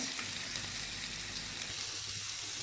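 Creamy chicken sticks frying in a pan over a medium flame, a steady close hiss and crackle of hot oil with no talking.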